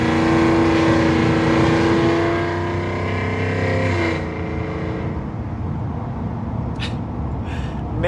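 A cammed truck engine revs hard with a loud, choppy exhaust note, then drops to a lower, rougher rumble as it settles while driving, and a few short faint sounds come near the end.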